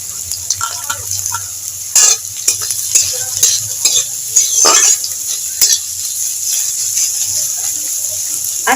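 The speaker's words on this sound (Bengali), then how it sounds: "পেঁয়াজ, রসুন আর লঙ্কাটাকে একটু ভেজে নেব।" Chopped onion, garlic and green chili fry in hot oil with a steady close sizzle, broken by repeated knocks and scrapes of a spatula stirring the pan.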